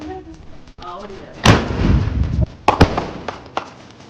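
A small lollipop firecracker whooshes up and bursts with a sharp bang, followed by a few crackling pops, after someone briefly speaks.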